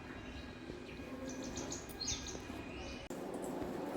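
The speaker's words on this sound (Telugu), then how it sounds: "రకరకాల ఎంజాయ్ చేస్తారు చాలా ఉన్నాయి పక్షులు ఇలా" Various small birds chirping outdoors in the morning, scattered faint tweets and calls at a moderate distance over a steady low background hum, with no talking.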